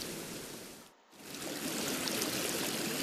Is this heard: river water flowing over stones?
yes